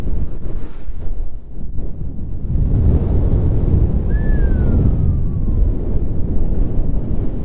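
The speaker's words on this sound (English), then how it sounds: "This is the first time it's cleared up all day for us, while it is still really windy" Strong wind buffets loudly and steadily throughout on Purple Mountain, County Kerry, Ireland, roaring and gusting close up, with a faint whistling tone sliding down briefly near the middle.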